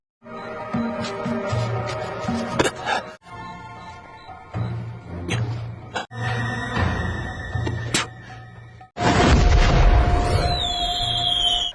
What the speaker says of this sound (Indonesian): menghidupkan kembang api supaya Tuan Jin bisa mengetahui keberadaannya